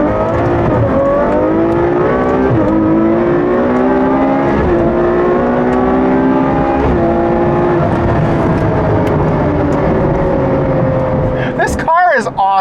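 Ferrari 812 Superfast V12 engine revving, a loud close roar with rising and falling pitch sweeps as the revs climb and ease, sustained throughout before a brief sharp noise at the end.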